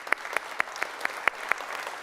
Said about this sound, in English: A little round of applause.